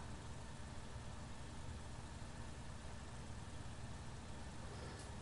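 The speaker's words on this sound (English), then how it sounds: "It's a lovely little forage harvester though. Sounds awesome." A forage harvester engine in Farming Simulator 19 runs with a steady, dense mechanical drone that holds an even loudness throughout, with no pauses or talk.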